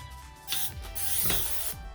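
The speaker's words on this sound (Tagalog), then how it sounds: "so next I have here olive oil, or if you don't have any olive oil, you can use vegetable oil, canola oil, just spray" Olive oil is sprayed onto raw pork chops for an air fryer in a home kitchen, giving a few short hissing bursts up close.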